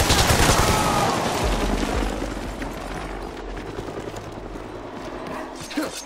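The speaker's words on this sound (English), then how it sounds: "That chopper's got some real firepower." Helicopter gunfire in the video game Army of Two: dense, rapid bursts, loudest at the start and then fading into a rough, continuous background crackle, with a voice talking over the combat.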